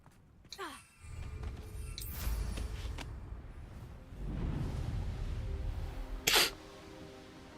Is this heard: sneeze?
yes